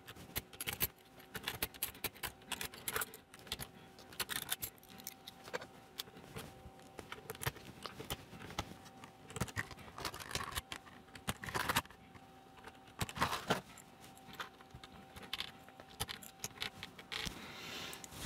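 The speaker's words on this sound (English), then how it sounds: "whip some of the keys off and whip some of the switches out and put these yellow ones in" Scattered plastic clicks, snaps and rattles of keycaps and switches being pried off an Akko 5075B wireless keyboard and handled, irregular and close, with quiet pauses between bursts.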